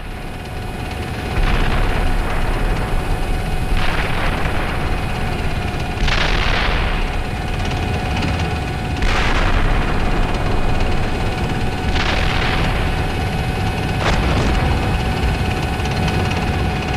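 Heavy gunfire and artillery blasts from the tank combat simulator Steel Beasts Pro rumble over a constant engine drone, with about six loud bursts spaced a few seconds apart.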